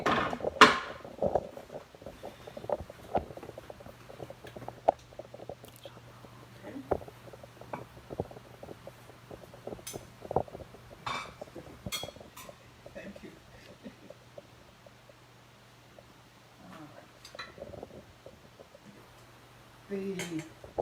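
Dishes and cutlery set out on a table, with scattered clinks, clatters and wooden knocks arriving irregularly over a low steady hum, close and moderately loud.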